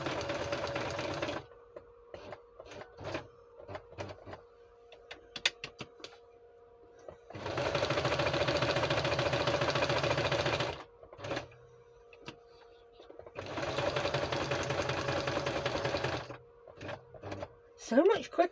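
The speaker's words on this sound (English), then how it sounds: "So much quicker to sew this roughly straight." A sewing machine stitches nature-themed bookpage journal cards in three steady whirring bursts of several seconds each, with quiet pauses and small handling clicks between them.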